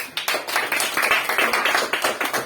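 A group of students claps for the first team in a classroom, a dense burst of many hands clapping rapidly and fairly close, continuing steadily without talk.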